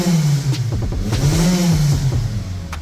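A Mitsubishi Outlander engine idles on petrol with a steady low hum and a slightly uneven, wavering rhythm, close and continuous with faint clatter.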